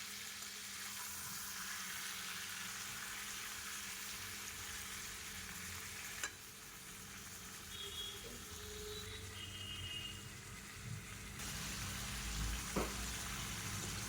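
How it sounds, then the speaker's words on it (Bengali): Chicken pieces sizzle steadily in hot oil with onions while being browned for a potato chicken curry, a continuous close frying hiss with a few soft stirring clinks, no voices. "ভালো করে তেলের মধ্যে, পেঁয়াজের মধ্যে ভালো করে মাংসটা কষিয়ে নেব।"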